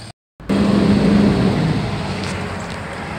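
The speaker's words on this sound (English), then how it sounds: "And there's another car coming in." A car drives in near a wrecked blue convertible Mustang, a steady close engine and tire rumble starting abruptly and slowly easing off.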